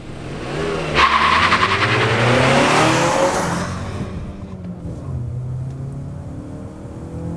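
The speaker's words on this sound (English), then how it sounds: "All right, we're gonna do a quick 0 to 60 miles an hour test" A 2019 Mazda3 Sport GT hatchback with a 6-speed manual accelerates hard from 0 to 60 mph, its engine note rising loudly through the gears with a brief shift gap, then settling into steady cruising road and engine noise.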